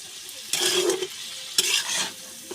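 Goat meat fries in oil in a pan as a spoon stirs it in two short bursts, each a scraping swish over a quiet sizzle, close by with no talking.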